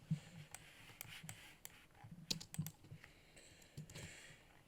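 Clicky keystrokes on a computer keyboard as a value is typed and Enter is pressed, a quick run of faint, close taps with no talking.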